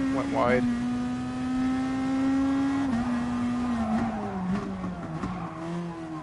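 A race car engine in the video game Gran Turismo Sport holds a loud, steady drone, then drops in pitch as the car shifts and slows, with brief tire noise, under a voice.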